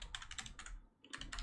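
Keys clatter on a computer keyboard as a mkdir command is typed into a terminal, a quick run of close, crisp keystrokes that pauses briefly before a second burst.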